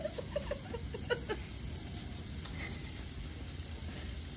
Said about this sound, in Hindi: आता आम्ही वरती आलोय कौल फ्राय करायला